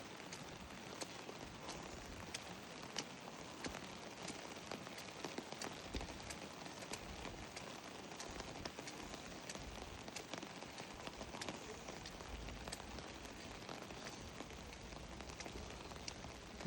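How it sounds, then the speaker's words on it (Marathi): Light, fine rain falls outdoors along the Zari Jamni road in a natural setting. It makes a faint, steady patter with scattered soft drop ticks. "पाऊस चालूच आहे बारीक बारीक"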